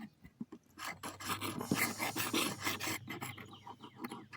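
A knife blade is sharpened on a rolling sharpener fitted with a 400-grit disc, making close, scratchy rasping strokes that rise and fall in uneven runs for several seconds. There is no talk.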